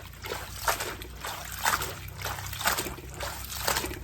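Water runs and sloshes steadily in a sink as salad greens are rinsed, with rhythmic swishing surges roughly every second, close and moderately loud.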